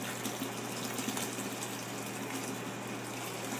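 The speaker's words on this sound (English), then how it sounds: "This is your 2nd gallon of tap water. We're going to go into the bucket with this." A gallon of tap water pours steadily into a bucket, a continuous close gushing splash with no talking, part of making homemade laundry detergent.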